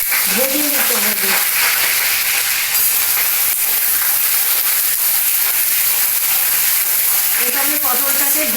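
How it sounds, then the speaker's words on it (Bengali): Pointed gourd (potol) pieces frying in hot oil in a home kitchen, a loud, constant close sizzle and hiss that persists unbroken, with a short voice fragment near the start and the end. "এটা আমি পটলটাকে ভেজে নিচ্ছি"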